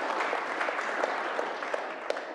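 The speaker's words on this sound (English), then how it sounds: "Let's just have a wee round of applause for Johnny at the back" A lecture audience in a hall gives a brief round of applause, a steady patter of clapping with a few sharper individual claps standing out.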